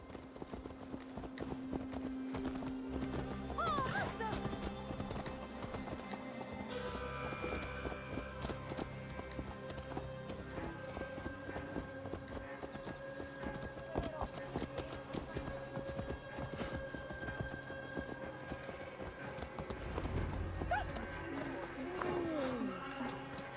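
Horse hooves clip-clop steadily as a rider travels in Assassin's Creed Valhalla, under game music and ambient sound. Brief voice-like calls rise now and then in the background.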